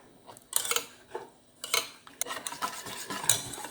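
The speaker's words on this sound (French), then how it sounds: "Je vais mettre mon chocolat fondu. Je vais mélanger délicatement." Melted chocolate stirred gently into a dessert mixture for a chocolate entremet, giving soft intermittent scraping and clinking of a utensil against a bowl in short bursts, with no talking.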